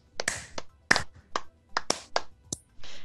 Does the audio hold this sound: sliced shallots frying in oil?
no